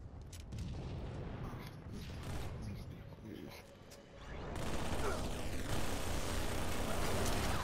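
Gunfire and booming blasts from the Halo video game rumble in a dense, continuous barrage, growing louder and fuller in the second half.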